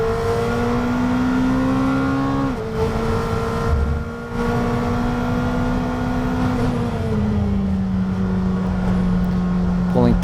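A 2019 McLaren Senna's engine drones loud and steady at speed on a race track, with its pitch shifting as gears change and the car brakes. A driver talks over it in places.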